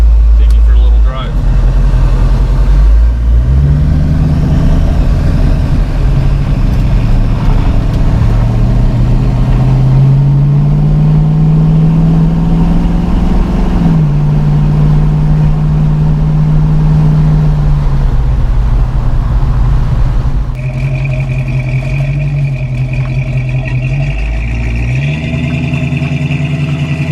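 A 1968 Mercury Cougar's engine drones steadily while driving, its pitch rising and falling through gear changes, loud and continuous for the whole stretch.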